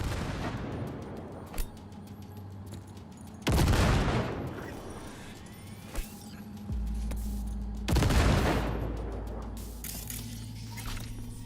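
A grenade explosion and gunfire in the video game Cyberpunk 2077 on PS4, two heavy booming blasts several seconds apart over a rumbling background with scattered sharp shots.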